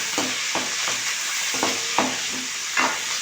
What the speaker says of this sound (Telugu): అల్లం వేసి ఎర్రగా మగ్గనివ్వాలి